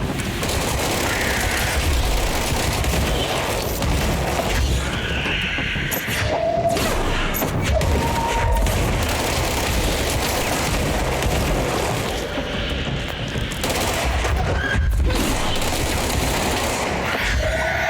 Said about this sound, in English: At this point, I'm just focusing on shooting all the enemies.